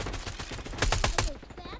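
A rocket launcher fires in a video game amid a burst of rapid gunfire, several sharp blasts crowding together at close range before dropping back to a quieter rumble.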